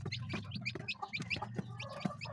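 A mother hen with newly hatched chicks, soft low clucking under a flurry of thin, high peeping chirps, close and busy throughout the short stretch.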